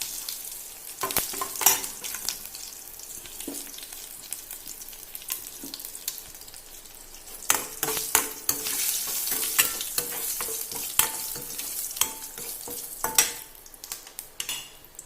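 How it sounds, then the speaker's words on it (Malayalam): Mustard seeds and curry leaves crackle and sputter in hot oil for a tomato curry tempering, a dense run of sharp pops and sizzling bursts over a soft hiss, close and lively, with occasional stirring clinks. "കടുക് പൊട്ടിക്കഴിയുമ്പോഴേക്കും നമുക്ക് കറിവേപ്പില ഇട്ട് കൊടുത്ത് ഗ്യാസ് ഓഫ് ചെയ്യാം"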